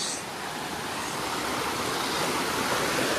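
A waterfall in Arunachal Pradesh roars with a loud, steady wash of rushing water, broadband and unbroken throughout, with no voices.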